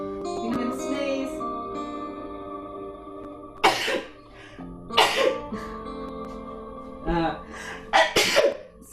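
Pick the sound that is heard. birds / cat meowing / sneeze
sneeze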